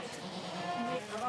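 Goats bleat on a farm raising 150 dairy goats, several wavering calls rising over a murmur of nearby people talking and general barn ambience.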